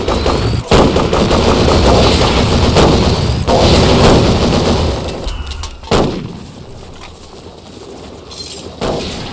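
An MG42 machine gun fires in a video game as loud, dense bursts of rapid shots, with heavy overlapping gunfire and explosions filling the whole stretch.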